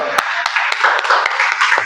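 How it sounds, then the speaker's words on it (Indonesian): A class claps for a student, Hazrul, during a school economics lesson: a short burst of close hand claps, fairly loud, with a voice talking over it. "Tepuk tangan untuk Hazrul."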